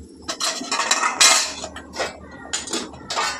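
A pot of fish-head chorchori in a home kitchen being handled with metal clinks and clatters of a lid and utensils, a few sharp bursts close by with no talk.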